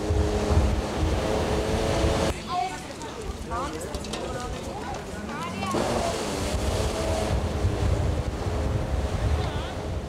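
Waves and wind roll along the shore of a large lake beach, a constant close wash of surf and gusty wind noise, with a voice talking over it in the middle.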